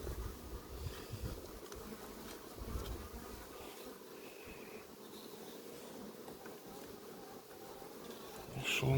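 Bees buzz at a hive in a dense, continuous drone, fairly soft and close, with individual insects flitting past; no voices.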